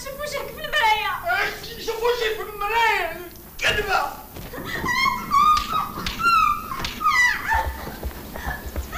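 A dog whimpers and whines in high, wavering cries that rise and fall repeatedly, close and fairly loud, with people talking over it throughout.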